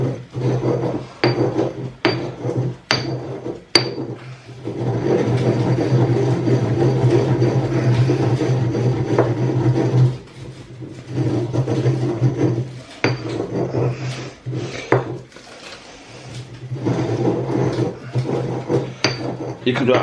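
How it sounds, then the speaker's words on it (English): A salt grinder crunches and rasps through salt in repeated bursts with brief pauses, a steady scratchy grinding close by, alongside a low background hum. "You could actually probably spend most of this video watching me grind salt."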